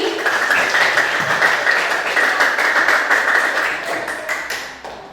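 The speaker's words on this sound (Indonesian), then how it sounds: "Ayo kita tepuk tangan untuk diri kita sendiri." A classroom group claps for themselves, a dense, even patter of many hands that holds steady for several seconds before thinning out at the end.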